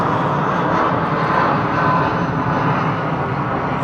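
An Air Canada Boeing 777-300 departs Heathrow with a loud, steady jet engine roar, broadband and continuous, holding close and strong throughout with no voices.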